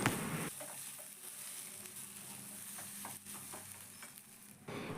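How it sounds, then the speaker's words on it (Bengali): A spoon stirs potato and egg bhujia paratha filling with garam masala in a pan. Soft scraping strokes repeat steadily over a faint, low sizzle, close but quiet, with no talking. "এবারে সব কিছু খুব ভালোভাবে কিছুক্ষণের জন্য মিক্স করতে থাকবো"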